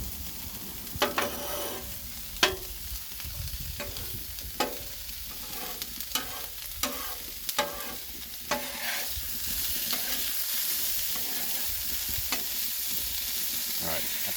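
Breakfast quesadilla filling with pork fries on an outdoor Blackstone griddle in oil, giving a steady sizzle broken by frequent sharp scrapes and taps of a metal spatula. Wind noise runs underneath.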